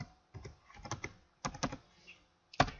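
Crisp computer keyboard keystrokes patter in short clusters with brief gaps, close and fairly quiet, as text is typed into a script editor.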